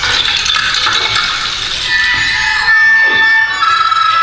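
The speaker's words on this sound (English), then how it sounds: "sometimes I might play that same phrase and it will sound like this, because I could choose spontaneously to invoke some electronics" An invented acoustic instrument plays a phrase altered by live electronic processing, giving a dense, continuous wash with sliding whistle-like tones and a low swooping sweep near the end, loud and steady throughout with no voices.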